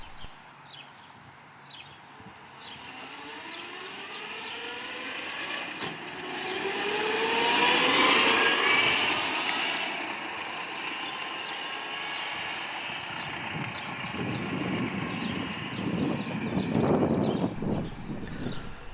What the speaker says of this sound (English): As I go by, you should be able to hear it running through the gears.